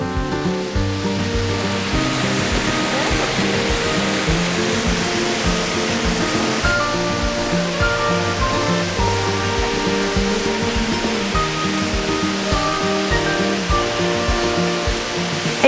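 A waterfall at the Shanlinxi forest recreation area in Nantou, Taiwan, roaring as a dense, unbroken rush of water, loud and steady throughout with no voices.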